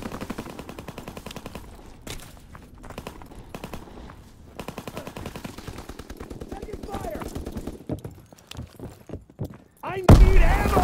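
Gunfire from the multiplayer mode of the video game Call of Duty: WWII, with rapid machine-gun bursts crackling steadily at mid distance under game voice lines, then a loud close blast at the end.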